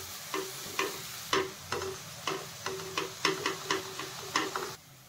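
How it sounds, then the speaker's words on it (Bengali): Onion frying in a pan over low to medium flame while being stirred, a soft sizzle under a steady run of about a dozen light scraping ticks from the spatula. "পেঁয়াজটাকে এবার আমি লো থেকে মিডিয়াম ফ্লেমে ভালো করে ব্রাউন করে প্রথমে ভেজে নেব"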